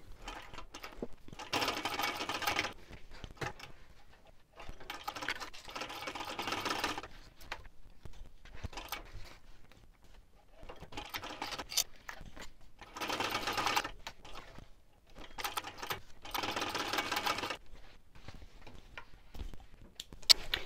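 A sewing machine sews the joining seam of a fabric clutch with a 3.5 stitch length, in several loud bursts of rapid stitching separated by brief pauses.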